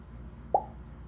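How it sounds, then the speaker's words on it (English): A single short, soft pop sound effect in a video game as a taco hits a dinosaur, quick and bright, over a quiet low hum. "we heard the pop because the taco hit the dinosaur and the game stopped"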